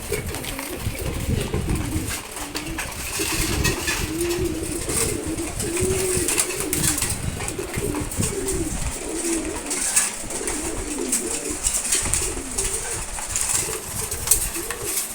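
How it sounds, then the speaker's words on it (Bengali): Male pigeons, including red checkers, coo steadily in a loft, with overlapping calls and occasional wing flutters, close and continuous throughout. "এখানে হচ্ছে সব নর কবুতর"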